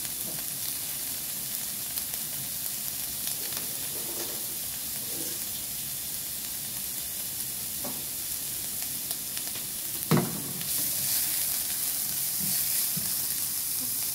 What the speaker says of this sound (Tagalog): Bigisa na natin ang ating onion.